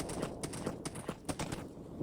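Horse in the Minecraft video game, its hooves clip-clopping in a quick, uneven run of soft knocks, fairly faint and with no speech.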